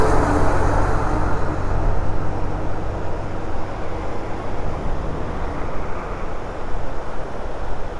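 Road traffic noise on a mountain highway between Srinagar and Zojila comes through a mic inside a rider's helmet as a steady, muffled low rumble with a wind-like wash.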